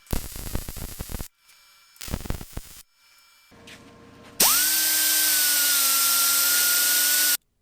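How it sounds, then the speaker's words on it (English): Scratchy rasping strokes come in bursts with pauses, then an 80-grit sanding disc grinding metal spins up and whines loudly and steadily before cutting off. "I started out my sanding with an 80 grit disc"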